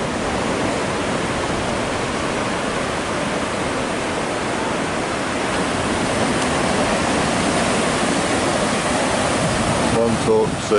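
Ocean surf at Montauk South Beach, Long Island, makes a continuous broadband roar with no distinct breaking rhythm, steady and fairly close, with a brief voice at the very end.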